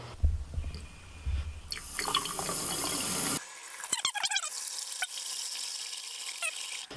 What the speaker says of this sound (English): Then I'm gonna go open up some faucets in the basement, like a shower or a sink faucet in the basement.